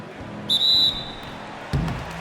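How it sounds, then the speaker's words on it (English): A referee's whistle blows once, short and shrill, for a shooting foul in an NBA 2K17 basketball game between the New York Knicks and Philadelphia 76ers, followed by a dull thump over faint arena ambience. "So the whistle blows on the shot and 2 free throws for the contact right there."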